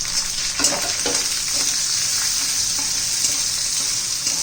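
Garlic, ginger and asafoetida sizzle in hot oil in a pan over medium heat for garlic chutney, a steady close frying hiss with a few stirring scrapes near the start.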